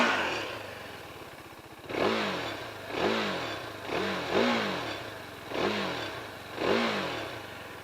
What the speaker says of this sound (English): So first let's hear the exhaust note.